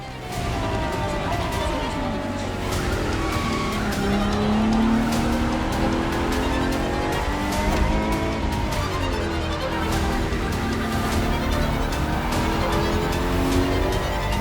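Ferrari FXX-K supercar engine in The Crew Motorfest racing game, a steady loud high-revving drone with rising and falling gear-change sweeps, plus occasional tire noise, continuous throughout with no talk.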